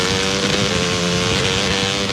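A dirt bike engine drones in a radio advert, a loud, continuous buzzing roar held at an even pitch with no pauses and no voices.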